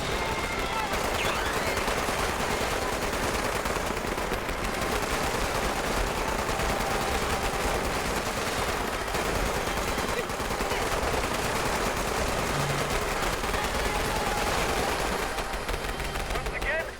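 Dense, continuous gunfire in Fallout 76, rapid automatic shots blending into an unbroken loud barrage that runs throughout with no pauses, close and overwhelming.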